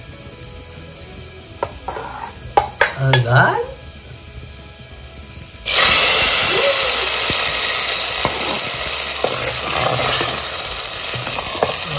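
A hot garlic tempering (phodni) lands in a pan, bursting into a loud, sudden broadband sizzle that holds steady and slowly eases, after a few seconds of people talking and small kitchen knocks.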